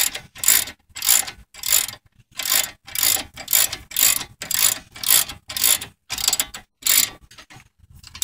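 A ratchet tightening a 21mm caliper bolt during front brake work on a Dodge Grand Caravan, a close, loud, rapid clicking burst repeated in about a dozen regular strokes.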